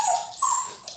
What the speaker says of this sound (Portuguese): Nós temos aqui a participação exclusiva do meu cachorro, Tito, que resolveu aqui também participar da nossa aula